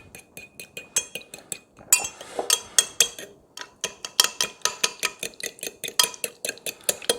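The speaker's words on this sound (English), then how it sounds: "And then I'm just going to mix it together." A spoon stirs a keto fat bomb mixture of melted coconut oil and liquid stevia in a bowl, giving rapid, rhythmic clinks and scrapes against the dish, close and clear, with a couple of brief pauses.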